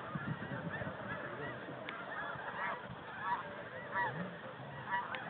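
Snow geese honk continuously during a spring hunt over decoys, a dense chorus of nasal calls at moderate distance, steady throughout with a few louder honks standing out.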